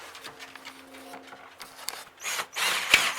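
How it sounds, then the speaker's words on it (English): A power drill whirs in short bursts with scraping clicks between, then bites harder into a metal rivet nut with a louder grinding whine near the end. "You got to drill out the rib nut."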